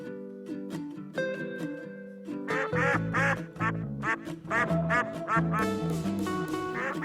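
A duck quacks in a rapid series of loud, nasal calls, some overlapping in quick bursts, close by and alone with no talking.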